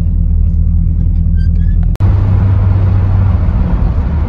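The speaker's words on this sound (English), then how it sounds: "I'm just running this car easy right now." A 1961 Oldsmobile Dynamic 88 cruising gently with a steady, low engine drone and road rumble, close and fairly loud, with a brief dropout midway before the hum resumes.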